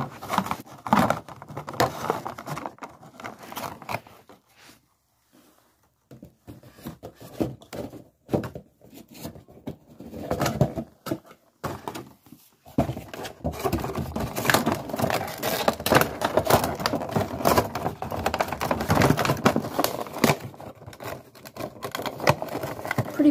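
A Funko Pop vinyl figure of Georgie from It being packed back into its cardboard box, close crinkling, tapping and rubbing of cardboard and plastic in irregular bursts with a quiet pause midway.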